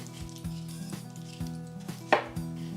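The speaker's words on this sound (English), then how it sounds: "we're going to peel them, chop them," A knife chops potatoes on a board in a home kitchen, several crisp regular strikes with a faint pan sizzle behind them, no talk.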